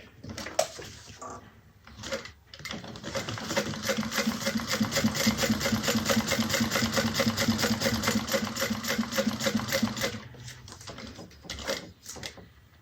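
A sewing machine stitches a Brunella bag in a rapid, even mechanical chatter that runs steadily for several seconds between short pauses, close and clear with no talking.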